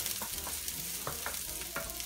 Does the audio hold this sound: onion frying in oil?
yes